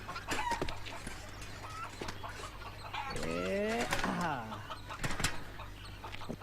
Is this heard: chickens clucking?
yes